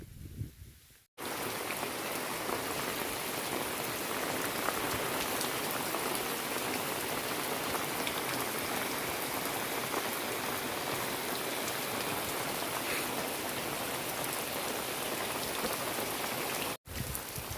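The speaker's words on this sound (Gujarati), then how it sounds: "વરસાદ આવી ગયો." Steady, heavy rain pours down continuously, a dense hiss of drops on surfaces with no voices, briefly cutting out near the start and end.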